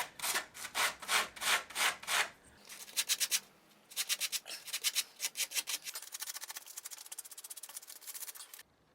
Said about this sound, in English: I'll then use the emery paper to get it nice and smooth